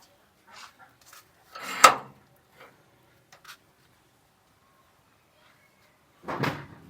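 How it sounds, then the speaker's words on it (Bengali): A gate at a village house being opened, with scattered soft knocks and one firmer clunk, then a louder scraping rattle near the end, close by. "গেটটা খুললাম"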